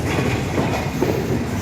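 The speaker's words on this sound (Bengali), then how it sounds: "তো ট্রেনের গতি কমে আসছে। আমরা এখনই আমাদের ট্রেনের ইঞ্জিন অলরেডি প্রবেশ করেছে যশোর স্টেশনে।" The Sundarban Express rolls into Jessore railway station in Bangladesh, its wheels clattering in a steady rhythmic clickety-clack close by as the train slows.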